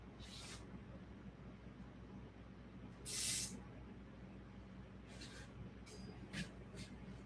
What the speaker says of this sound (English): Let's spray some stuff in there real quick